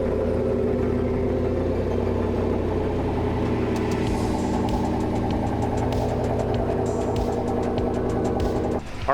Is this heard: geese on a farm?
no